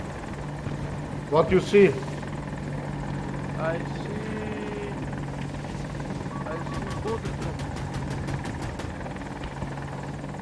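An AH-64 Apache attack helicopter in a video game on the Hourglass map gives a steady, droning rotor hum throughout, with rhythmic blade thumping toward the end, under two players talking over voice chat.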